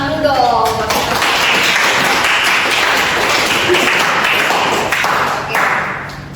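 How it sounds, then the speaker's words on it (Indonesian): An Indonesian classroom breaks into clapping, loud and close, as many students applaud together in a sustained burst that starts with a few voices and fades slightly toward the end. "tepuk tangan dulu dong"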